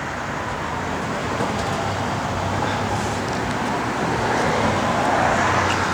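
A 1970 Chevrolet Nova SS with a 396 V8 and a Muncie four-speed manual runs steadily, giving a continuous, even rumble with a broad noisy wash and no pauses or talk.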